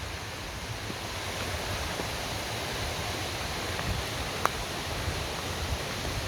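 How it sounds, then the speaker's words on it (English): Steady broadband rush of a mountain creek flowing on a trail hike, continuous and fairly soft with no talk. "Beautiful creek."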